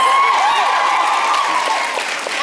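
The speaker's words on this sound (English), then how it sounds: "applaud yourselves" Convention panel audience at NJCon 2016 applauding, a steady dense wash of clapping that holds evenly for a few seconds with a faint voice rising above it.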